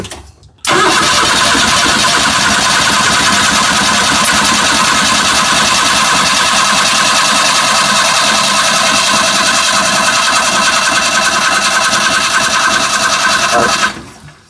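A Suzuki Carry DD51T engine being cranked over on the starter for a compression check, a loud, steady, rapid whirring chug that runs continuously close by for about thirteen seconds and then stops abruptly.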